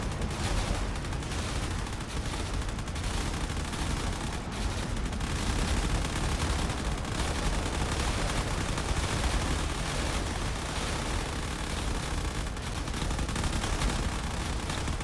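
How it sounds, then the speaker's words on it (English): Relentless turret fire aimed at incoming fighters around a fortress in the space game Drone Wars, a loud steady wall of overlapping shots and booming rumble with no pauses. "You see all these turrets are trying to take out the fighters."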